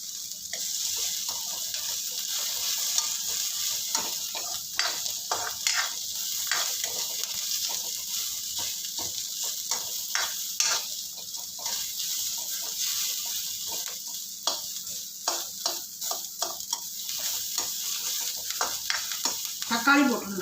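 Curry leaves fry in a hot pan for a Kumbakonam kadappa, giving a steady close crackling sizzle with intermittent stirring scrapes throughout, no voice over it.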